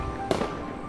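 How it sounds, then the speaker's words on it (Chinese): One sharp firework bang bursts out over a low rumbling background, a festival firework effect in a 3D Chinese animated series, followed by a brief fading tail. "这是烟花的声音。"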